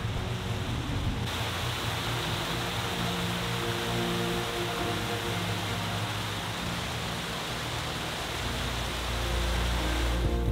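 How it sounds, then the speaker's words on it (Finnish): In a wilderness valley a river roars as it plunges tens of metres over an unmarked waterfall, a steady, dense wash of rushing water that persists throughout with no voices. "Laakson pohjalla virtaava joki pauhasi äänekkäästi syöksyessään kymmeniä metrejä jälleen seuraavan merkkaamattoman vesiputouksen kohdalla."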